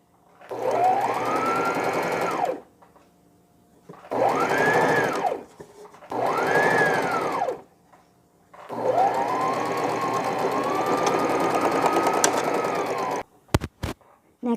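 An electric sewing machine stitches fabric for a newborn's frock in four bursts, each a steady whirring run that rises to speed and slows again, with short pauses between. A couple of sharp clicks come at the end.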